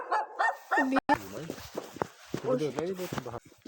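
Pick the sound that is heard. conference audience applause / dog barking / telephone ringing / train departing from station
dog barking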